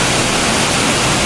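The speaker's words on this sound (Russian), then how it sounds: "Мы дошли вот до такого водопада." Four-metre waterfall pouring inside an underground sewer collector in Moscow, a steady loud broadband roar of falling water filling the enclosed tunnel, with no voices.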